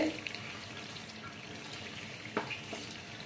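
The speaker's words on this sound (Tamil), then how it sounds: "நெய்யில் பாருங்கள் எவ்வளோ மணமாக வேகுதுண்டு" Rice frying in ghee in a pan for Pongal, a steady soft sizzle with faint watery crackle running throughout, with one brief louder clink near the end and no talking.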